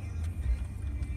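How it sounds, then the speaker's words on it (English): Loud, low road and engine rumble fills the cabin of a moving car, a steady drone with a brief heavier thump partway through. "Our car is really loud."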